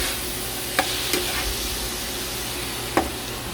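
Pressure-cooked beef for mechado sizzles and is stirred in a pan: an even, steady frying hiss with a few distinct spoon scrapes spaced through it.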